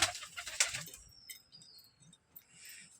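A newly bought pigeon handled indoors gives soft, low, brief coos after a short burst of wing flapping at the start, close and quiet with no talk.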